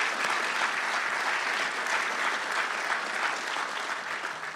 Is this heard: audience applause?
yes